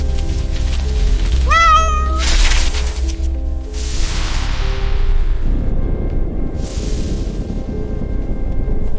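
A cat gives one clear meow in the middle, set against a steady low rumble and a hiss. The background noise swells and fades, with bursts of broadband noise over it.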